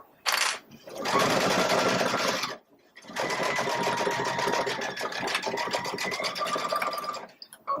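A Baby Lock Solaris sewing machine stitches a bag in rapid, close, buzzing runs, pausing briefly between passes before starting up again.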